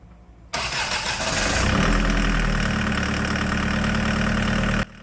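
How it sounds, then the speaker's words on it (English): A VW diesel engine in a Chevy S10 pickup cranks briefly after 20 seconds of glow plug heat and catches quickly, settling into a loud, steady clattering idle close by. "Let's see how fast the engine starts with 20 seconds of glow plug heat."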